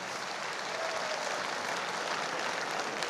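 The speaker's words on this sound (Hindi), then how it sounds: "मैं चाहता हूँ एक बार जोरदार तालियां हमारे महागुरु मिस्टर महिपाल सर के लिए होनी चाहिए।" An audience applauds at a speech event with a dense, steady wash of clapping. It holds at an even level throughout, with no voices over it.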